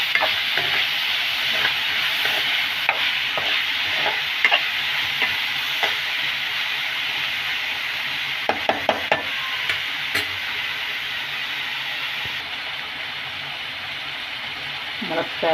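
Drumsticks and onions, salted, fry in a pan with a continuous close sizzle broken by light taps and scrapes of stirring, while a voice talks over it.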